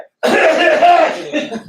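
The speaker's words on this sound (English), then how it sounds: "don't clear your throat in the microphone because that shit is very loud" A single loud, close cough with throat clearing straight into a studio microphone, lasting about a second and a half after a short silence.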